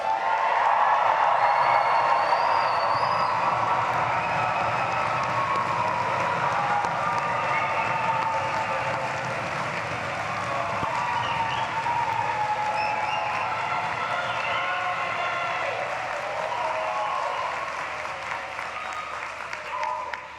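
A commencement crowd at a medical school graduation ceremony cheers and applauds loudly and steadily for about twenty seconds, dense clapping with shouts and whoops, fading slightly toward the end.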